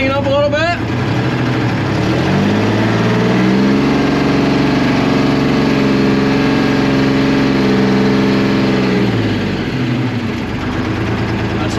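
A 1975 International Loadstar 1850 truck engine idles steadily close by, a low continuous rumble with some revving at the start and end, while people talk over it.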